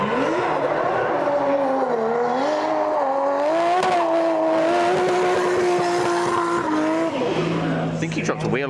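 A drift car practising on a track with a gravel run howls past in a long sustained engine drone with squealing tyres, loud and continuous, as people talk nearby.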